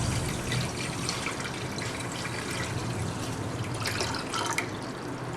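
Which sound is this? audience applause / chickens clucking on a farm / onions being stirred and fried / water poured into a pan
water poured into a pan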